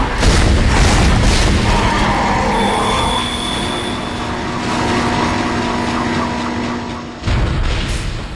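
Tram arriving in the Dead Space video game, a loud, heavy rumble of rail wheels with squeals and metallic booms, rolling steadily for several seconds before a final clunk as it settles.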